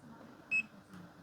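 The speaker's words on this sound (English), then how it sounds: "Oh, we had a little bit of a beep, but we'll do that because it's charging" Brief, thin electronic beep from a multimeter on continuity mode as its probes sit across a charging capacitor pulled from discarded e-waste electronics, a single short tone standing alone over faint background hiss.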